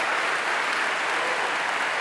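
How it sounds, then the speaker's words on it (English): Steady, even audience applause at a talk on DOOM's development, a continuous wash of many hands clapping close and loud throughout. "Let's give him another round of applause."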